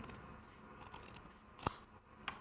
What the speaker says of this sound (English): I'm going to cut 2 pieces of felt about this size.